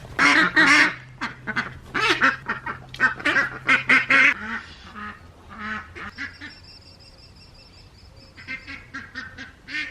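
Pet ducks at home give loud, close bursts of honking quacks, then quieter scattered calls with a faint steady tone in the background.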